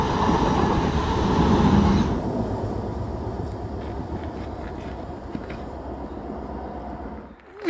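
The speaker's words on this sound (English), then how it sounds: "You saw a train." Train passing on a railway near Bournemouth, loud rumble and clatter at first that fades to a lower steady roll, heard from close by with wind noise and no talk.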